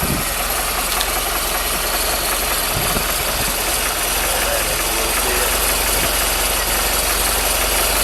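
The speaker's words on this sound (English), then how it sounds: "Probably gonna need to turn up the idle speed for cold start." A Mercruiser Alpha One Gen 1 sterndrive engine idling on a test fire after a remount with new drive shaft seals, a loud, steady, rough rumble running continuously with no pauses.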